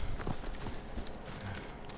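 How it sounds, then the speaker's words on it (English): A horse gallops in Ghost of Tsushima, its hooves beating out a quick, uneven clip-clop rhythm at moderate loudness over steady game ambience. "I could be riding my horse. Probably should be riding my horse."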